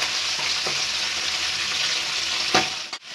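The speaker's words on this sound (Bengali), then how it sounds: "মাছগুলো আমি তেলের উপরে দিয়ে দেবো, মুড়োগুলো ভেজে নেবো।" Hilsa fish heads frying in hot oil give a steady, loud sizzle, broken by a few soft clinks of a spoon or ladle against the pan near the end.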